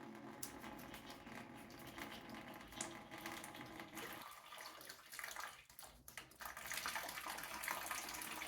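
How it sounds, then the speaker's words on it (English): Water drains from the drain valve at the bottom of an Adey MagnaClean Professional 2 filter canister into a bucket below, a steady close trickle and gush that thins and splutters partway before flowing on. "Open the drain valve at the bottom of the canister to remove the water."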